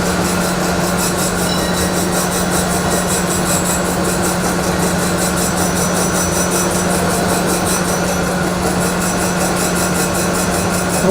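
An O.D. grinder wheel traverses across a part while removing taper, cutting on the wheel's right-hand corner; a loud, steady machine hum and grinding whir runs throughout with no break.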